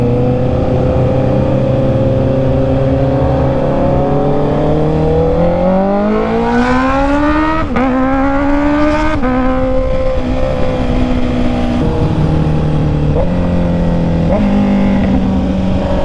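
A Honda CB650R motorcycle engine climbs steadily in pitch as it accelerates, with sharp auto-blip upshifts that drop the revs without using the clutch. The engine stays loud and close throughout, with no talking.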